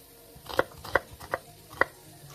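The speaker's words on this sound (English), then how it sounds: "and cut the onion" A knife chops an onion on a cutting board in four quick, evenly spaced chops, close and clear against a quiet room.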